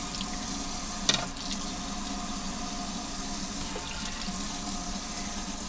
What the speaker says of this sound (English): You just wash the lid.